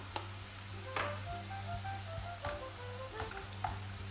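Chopped onions and capia peppers sautéing in a pan, a steady bright sizzle broken by occasional clinks and scrapes as a utensil stirs them, with a low hum underneath.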